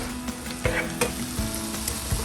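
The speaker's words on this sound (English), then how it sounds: "And then we're gonna stir." Cauliflower and toasted biscuit stuffing with chicken broth being stirred in a frying pan, a steady sizzle with a few scraping stirs of the utensil against the pan, close and moderately loud, no talking.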